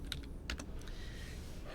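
Quick light keystrokes on a computer keyboard typing the short ipconfig command at a command prompt, a few close, faint clicks in a brief burst over a quiet room hum.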